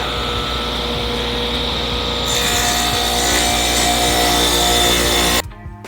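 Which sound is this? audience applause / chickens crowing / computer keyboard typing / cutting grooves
cutting grooves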